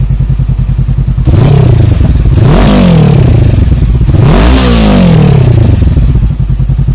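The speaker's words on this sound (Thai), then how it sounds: "เดี๋ยวฟังเสียงท่อใกล้ๆกันนิดนึงนะครับ" A 2015 Honda CB500F motorcycle idles with a lumpy exhaust beat, then revs up sharply three times, each rising roar falling back to idle, loud and close.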